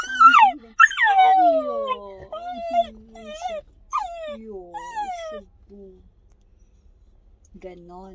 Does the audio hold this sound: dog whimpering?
yes